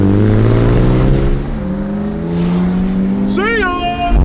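A BMW 128i with a manual gearbox pulls hard while racing, its engine note rising in pitch through the revs and whining steadily, with a brief higher-pitched sweep near the end and voices talking over it.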